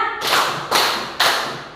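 Three sharp group claps a half second apart, crisp and loud, each fading quickly, from a counted clapping concentration game with parents.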